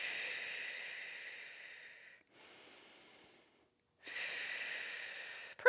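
Heavy breathing during a twisting Pilates mat workout: two long, close hissing exhales separated by a quieter inhale and a near-silent pause, steady and rhythmic with no talking.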